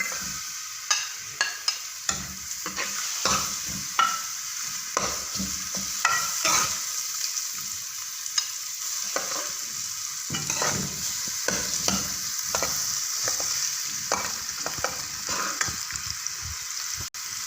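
Onions sizzle and crackle steadily in hot oil, with repeated scraping clinks of a spoon stirring the pan close by.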